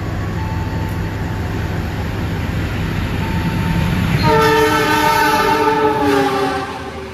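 The Taksaka train rumbles straight through Kutoarjo station in Indonesia without stopping, then its horn blares loudly partway through, sustained over the rolling rail noise before fading slightly.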